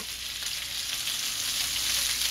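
Bacon fries in a pan for Taiwanese cabbage, a steady bright sizzle that crackles continuously and close, with no talking.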